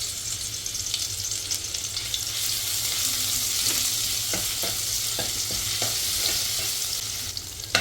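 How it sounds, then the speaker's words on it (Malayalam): Crushed ginger and garlic fry in hot oil, a steady bright sizzle lasting throughout with a few scraping stirs of a spoon against the pan partway through; no one speaks. "നമുക്ക് ഇഞ്ചി വെളുത്തുള്ളി ചതച്ചതിട്ട് കൊടുക്കാം."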